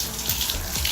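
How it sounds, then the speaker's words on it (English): Hot water runs from a tap into a sink, a brief steady splashing rush heard up close with no voices. "Hot water."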